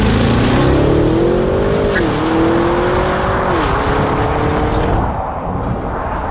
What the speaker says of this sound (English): It is very evident when you do a launch from standstill.